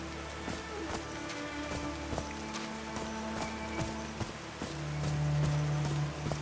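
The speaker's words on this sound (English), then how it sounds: "These drops of rain are so refreshing." Light rain pattering with scattered drips and taps over a low steady hum, alongside soft tonal sounds, continuous and close, in the video game Call of the Sea on PS5.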